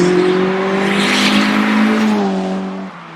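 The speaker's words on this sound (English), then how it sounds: "The blow off valve sounds amazing." A turbocharged single-cam VTEC Honda Civic coupe with a full turbo kit revs hard, and its engine tone rises and then falls away as the blow-off valve releases, all within about three seconds and with no talk.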